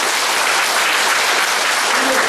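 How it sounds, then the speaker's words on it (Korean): Dense, loud congregation applause fills the room continuously at a Korean church memorial unveiling thanksgiving service. "이 가정 한번 박수 한번 해주시고."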